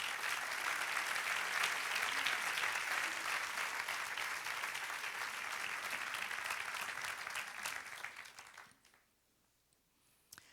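A church congregation bursts into sustained applause, steady loud clapping that carries on for about eight seconds before fading quickly into near silence.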